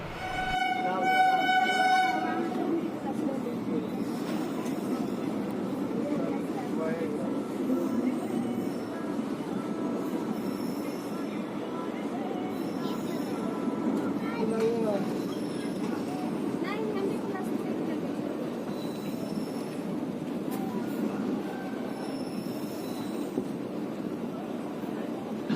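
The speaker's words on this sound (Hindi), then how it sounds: "हमारी ट्रेन मुक्तापुर स्टेशन को स्किप करते हुए अगले स्टेशन की ओर बढ़ रही है।" Rajendranagar–Jaynagar Intercity Express rolling between stations, a steady low rumble of wheels and carriage running throughout, with a horn sounding near the start and faint voices in the background.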